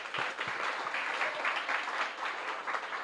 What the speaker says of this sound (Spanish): Créame que un aplauso para él.